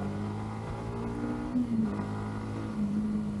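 A Yamaha MT15 V2 motorcycle accelerating up close, its steady engine drone climbing in pitch across a few short pulls with no talk over it.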